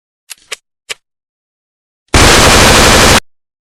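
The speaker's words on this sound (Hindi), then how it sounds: "उफ, गोलियों के धमाकों से कानों के पर्दे फटे जा रहे हैं।" Machine-gun fire sound effect in an audio drama of a Raj Comics story, a loud, dense burst of about one second after a few faint clicks and a short silence.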